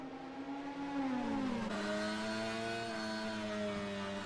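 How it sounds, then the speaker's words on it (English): A Honda race car at Suzuka in a SimHaus sim racing game, its engine screaming with a steady high whine and rising, shifting pitch as it revs and accelerates, close and sustained. "Listen to that engine screaming under the hood there"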